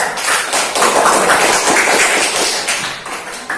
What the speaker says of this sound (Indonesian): Kita lagi tepuk tangan nih